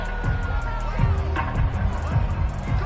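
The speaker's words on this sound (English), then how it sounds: "Plenty of shouts from this crowd as they watch the replay." Stadium crowd in the Madden NFL football video game, a steady roar of shouting and murmur during a replay, loud and continuous with no voices standing out.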